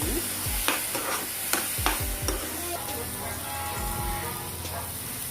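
Tomato puree and masala fry in oil for rajma masala curry, with a steady sizzle under repeated scraping stirs of a spoon against the pan, close and fairly loud.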